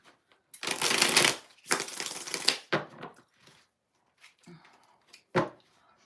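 Tarot cards being shuffled by hand during a reading, with several bursts of riffling and softer shuffles followed by a few light taps and flicks, close and alone.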